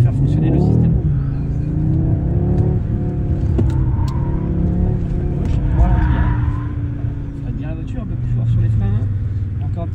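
An Audi RS3 accelerates gently on a track, its engine a steady low rumble with rising harmonic tones heard from inside the cabin, loud and continuous throughout.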